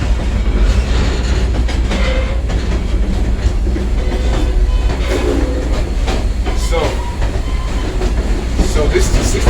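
Steady loud rumble of a train ride on the Southern 630 Missionary Ridge local departing Grand Junction at the Tennessee Valley Railroad Museum, with wheel clatter and occasional squeals throughout and faint voices beneath.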